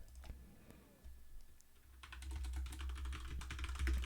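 Keys tapped on a computer keyboard while writing Java code for a JSP and MySQL connection produce scattered soft clicks over a constant background hum and hiss, growing busier in the second half.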